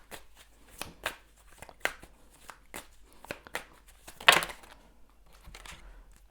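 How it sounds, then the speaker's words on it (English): A deck of tarot cards is shuffled by hand at close range, giving a run of soft, irregular riffling slaps and crisp flicks, with one louder burst near the end. "I'm gonna shuffle a little bit more"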